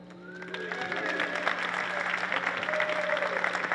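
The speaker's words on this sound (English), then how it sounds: "can you give them a round of applause?" An audience at an education talk breaks into a round of applause for a team, clapping building quickly and holding steady and moderately loud, with a faint tonal hum and brief vocal sounds underneath.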